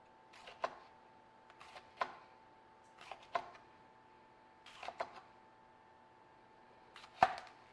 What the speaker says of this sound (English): We're just going to rough chop these.